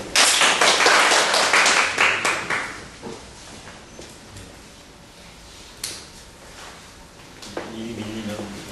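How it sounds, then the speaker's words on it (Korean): An audience claps in welcome at a colloquium discussion, a burst of applause that is loud for about three seconds and then fades into scattered taps and room noise. "한 번 더 박수로 환영해 주십니다."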